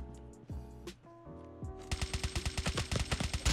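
In COD Mobile, a Man O' War rifle fires a rapid burst of sharp, evenly spaced shots that follow a few scattered clicks and mechanical sounds, loud and close with no talk.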